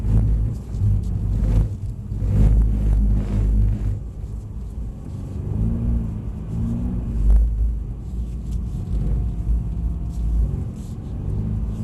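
A Mercedes-Benz car drifting on a track at Mercedes Benz World, its engine a loud, steady rumbling drone with rising and falling revs, heard alone without talk.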